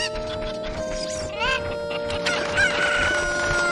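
Chickens in the Ocarina of Time video game, loud and close, crowing and clucking in a busy overlapping chorus, layered over game music and other background sounds.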